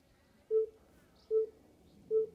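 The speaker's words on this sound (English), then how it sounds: "3 beeps" Three evenly spaced, short, clear tonal beeps come from a Tesla Model 3 Highland Performance just before its trunk opens, sounding alone over quiet outdoor background.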